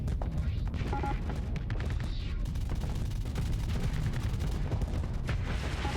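Ship weapons fire in the Starsector space combat game as a steady, muffled barrage of rumbling booms and overlapping volleys, continuous and low-pitched throughout with no clear gaps.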